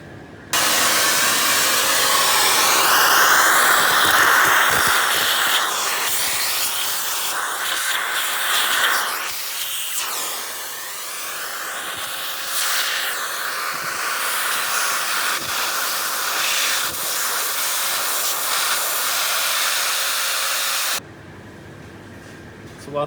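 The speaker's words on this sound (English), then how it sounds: "we're going to grab the vacuum cleaner and suck up all the coffee grinds in the top" A vacuum cleaner runs continuously, sucking coffee grounds out of the top and compartment of a coffee grinder, a loud steady hiss with shifting pitch as the nozzle moves, then cutting off near the end.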